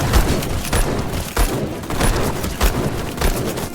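Sniper rifle shots ring out in the Black Skylands video game, a loud string of sharp cracks fired every half second or so over a dense, rumbling battle din, with no speech.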